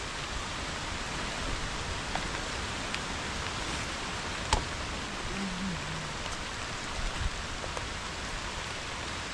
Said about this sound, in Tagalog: Ulan po. Ulan.